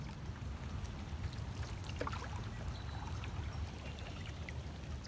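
Canoe and paddle gliding across flat water on the Mokelumne River, soft water trickles and light paddle dips over a quiet, faint outdoor background, with no talking.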